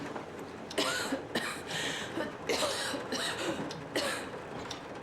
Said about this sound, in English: I guess she'll just keep coughing.